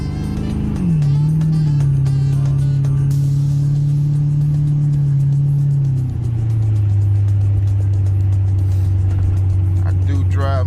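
An Oldsmobile Cutlass G-body car rolling through a neighborhood on a chilly day, its engine a continuous close rumble that shifts down to a lower steady pitch partway through.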